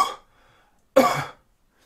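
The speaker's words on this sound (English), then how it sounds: "I'm going to cough into that without the mask on" Two short, sharp coughs into a piece of tissue paper with no face mask on, the first trailing off quickly and the second louder and fuller, separated by a near-silent pause.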